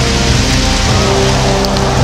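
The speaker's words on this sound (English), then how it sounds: "Rain coming down in buckets in Baltimore." Heavy rain pours down in buckets over Baltimore, a dense, steady roar of drops hammering surfaces close by, continuous and loud throughout with no voices.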